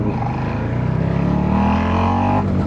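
A Yamaha XSR900 motorcycle engine revs while riding on a flat tire, a loud close mechanical drone with rising and falling pitch that climbs steadily before easing off near the end, heard without speech.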